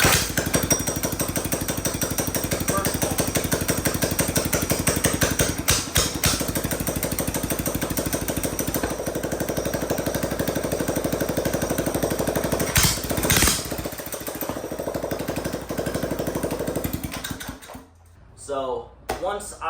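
A Coleman CT100 mini bike with a swapped 196cc engine runs with a loud, steady rapid chugging idle and brief throttle blips, then cuts off near the end.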